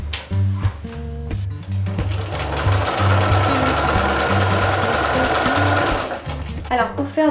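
A domestic sewing machine stitching fabric for a blouse, its motor whirring in a steady, fast run after a few short starts, with quick stops and restarts at the ends and someone talking over it.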